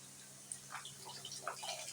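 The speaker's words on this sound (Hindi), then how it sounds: "और अब इसमें हम थोड़ा सा पानी ऐड करेंगे।" A little water is poured into a pan of masala bhindi (spiced okra), giving faint, brief splashing and trickling near the middle of a quiet stretch.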